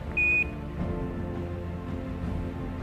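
A single short, bright electronic alarm beep sounds in an Apollo 11 spaceflight simulation, brief and clear over a steady background hum.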